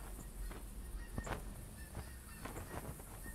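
A flock of geese honking in flight, scattered faint calls drifting from a distance over a windy outdoor background, with no talking.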